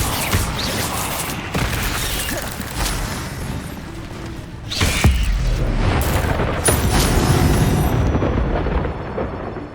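An Incendio fire spell erupts in the video game Hogwarts Legacy, a loud roaring blast that surges midway and keeps booming and crackling in a dense, continuous wall of sound.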